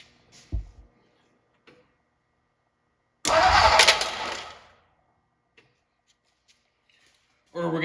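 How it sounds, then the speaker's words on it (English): A 1957 Ford Thunderbird engine, parked for almost 60 years, cranks over with a loud, whirring starter burst of about a second and a half. A faint knock comes before it, and a fresh burst of noise arrives at the end. "so I'm gonna start cranking it over"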